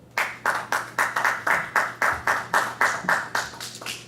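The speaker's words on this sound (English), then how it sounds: "Ladies and gentlemen, put your hands together for Mr. O." A studio audience on a talk show claps for a guest in steady, rhythmic unison, about a dozen loud, evenly spaced hand claps with no talking over them.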